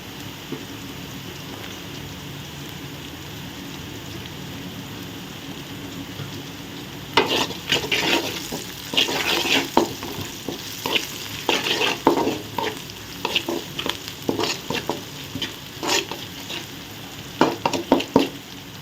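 Chopped beans frying for idiyappam kothu sizzle softly in a pan, then bursts of scraping and clattering stir strokes come in quick, irregular succession over the sizzle.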